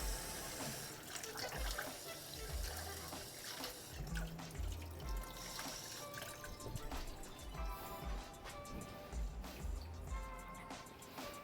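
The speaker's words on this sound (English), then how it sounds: "Getting some cold water you use for a slurry so that we can thicken up our" A kitchen tap runs cold water for a cooking slurry, a quiet, steady stream splashing into a container with faint drips and gurgles throughout.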